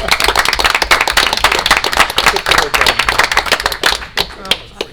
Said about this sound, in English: BFJ Planning deserve a round of applause for that accomplishment